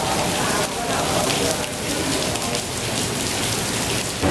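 Heavy, steady rain pours down in a dense, continuous roar, with no breaks across the whole stretch.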